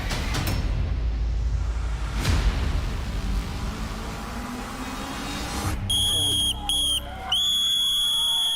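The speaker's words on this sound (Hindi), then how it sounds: "लेकिन यहां रेफरी ने मार दिया वो आखिरी सीटी" A referee's final whistle at a fight club challenge on a TV competition show, preceded by a busy roar of crowd and commentary, then a series of loud, shrill whistle blasts near the end, broken into several bursts.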